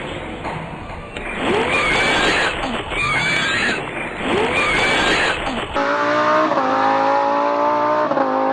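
Synthetic-sounding car engine droning and revving in an old Flash browser game, with a voice talking over the first part before the engine carries on alone.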